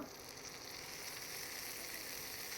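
Ginger garlic paste sizzling in hot oil with Kashmiri chilli powder in a pan, a constant bright crackling hiss filling the short stretch without pause.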